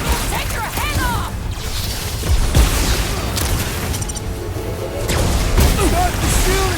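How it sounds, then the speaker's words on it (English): Heavy Nova Corps cannons fire during a battle in the Guardians of the Galaxy game, with repeated booms and crashes among whooshing effects, and voices talk over the loud, busy mix. "Those Nova Corps cannons will take your head off!"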